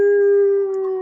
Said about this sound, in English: you hear the baying of ancient hounds